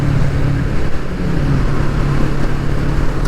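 A Kawasaki Vulcan S motorcycle riding at low revs in fourth gear, heard as a steady, loud engine drone mixed with wind rush, rising only gently while accelerating toward 50.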